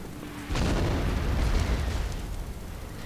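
An explosion with splash damage in the battle game Napoleon: Total War, a sudden loud boom after a brief quiet, followed by a rumbling roar that slowly fades.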